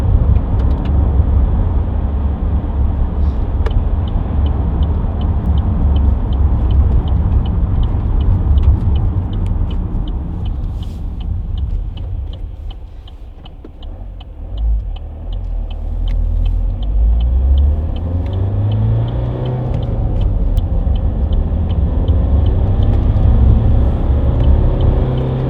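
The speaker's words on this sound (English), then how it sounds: "Just taking you up the dual carriageway now." A 2014 Vauxhall Astra 2.0 CDTi ecoFLEX diesel drives along a dual carriageway, heard from inside as a steady loud road and engine rumble that dips briefly midway before building again.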